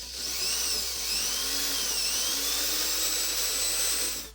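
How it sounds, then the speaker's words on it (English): A small high-pitched power drill whines steadily while boring holes to route EL wire, the loud buzzing pitch wavering slightly as it bites, then stopping. "Now I have marked these points where I need to drill the hole so that our EL wire can"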